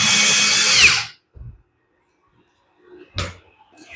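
A power drill whirs loudly for about a second as it drives a screw into a metal storage cabinet, then cuts off, followed by a couple of quieter knocks and handling clatters.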